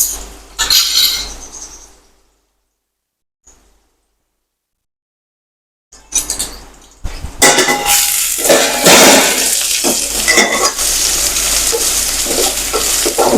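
Sliced okra sautés in a pan, with short clinks and stirring at first, a stretch of near silence, then a loud, continuous close sizzle and scraping that carries through the rest.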